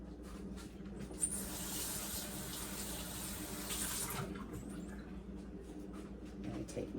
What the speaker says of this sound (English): Now I take my bowl and I rinse it out.